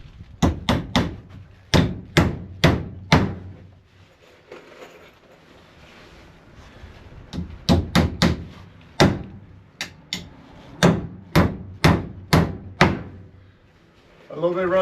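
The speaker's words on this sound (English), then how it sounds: "I'm going to nail this end first." A hammer drives nails into a wooden board on a portable picnic table being built on a farm. Loud, close, sharp blows come in quick bursts of several strikes, separated by pauses with some quieter handling noise.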